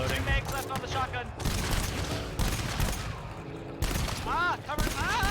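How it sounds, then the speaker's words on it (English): Shotgun fire in the co-op shooter game GTFO, rapid repeated blasts in a dense barrage, with creature shrieks and players talking over the gunfire. "Just keep shooting."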